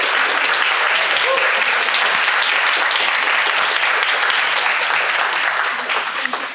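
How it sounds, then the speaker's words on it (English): Steady, loud applause from a seated audience at a university employer champion launch event fills the whole stretch, dense clapping that thins slightly near the end. "So can we give a Special round of applause for Isabel."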